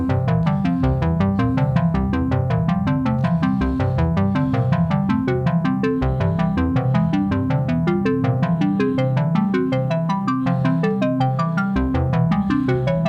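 A Modal Electronics Cobalt/Argon 8 synth arpeggiator cycles rapidly through sustained chord notes in a steady, bright, continuous pattern with shifting harmonies.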